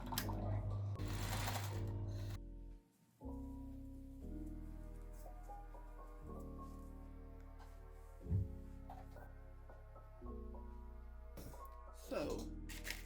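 A sewing machine stitching a fabric loop, its motor humming in steady runs broken by brief pauses and restarts, close and clear, with no talking over it.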